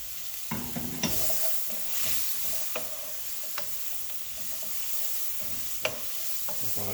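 Vegetables sweat in a pan of burnt curry while being stirred for Jamaican curry shrimp, giving a steady close sizzle broken by sharp scrapes and clicks of the spoon, with no talking.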